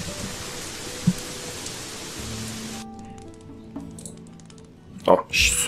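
Steady rain falling in the video game Gothic 3, a dense even hiss for about three seconds that then thins out, leaving quieter game ambience and a few brief louder sounds at the end.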